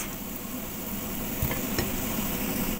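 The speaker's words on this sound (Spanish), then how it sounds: "Colocamos nuestros champiñones, removemos bien" Mushrooms tipped onto softened onion sizzle in a pan for a pork fillet mushroom sauce, with a constant close frying hiss and a couple of sharp stirring scrapes, no voices.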